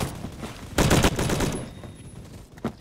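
An STG-44 rifle in Phantom Forces at a test range lets off a short, loud automatic burst, then a single quieter shot follows after a brief pause.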